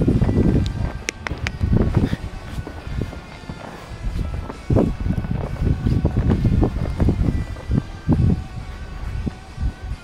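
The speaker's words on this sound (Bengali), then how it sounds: "ব্লিজার্ড চলছে এখানে, প্রচন্ড।" Blizzard wind in snowy Kibber, Himalaya, uneven gusts that buffet the microphone in repeated thumps and surges, with a steady rushing layer beneath.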